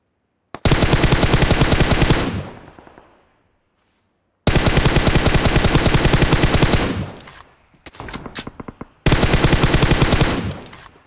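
Automatic gunfire in the BGMI battle royale game rattles in long, loud, sustained bursts, broken by a brief pause and a few shorter stuttering volleys, heard up close with no talk over it.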